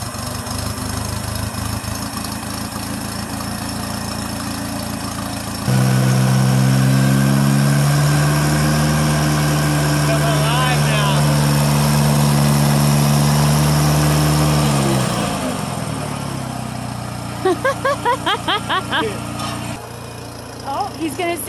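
A Satoh S650G tractor engine warms up. After a quieter start it surges into a loud, steady, low rumbling idle for about ten seconds, then drops off. Voices talk around it.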